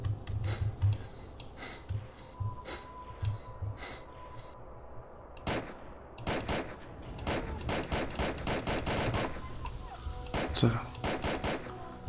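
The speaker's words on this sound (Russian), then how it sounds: "Я, по-моему, одиночный выстрел включил." Single-shot gunfire in S.T.A.L.K.E.R.: Call of Pripyat, sharp separate reports spaced irregularly, some in quick clusters, loud against a quiet ambient background with someone talking in between.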